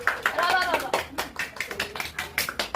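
People clapping hands at a child's birthday celebration with cake cutting, a run of uneven claps, fairly close and mixed with people talking over them.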